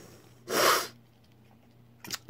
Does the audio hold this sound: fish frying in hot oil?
no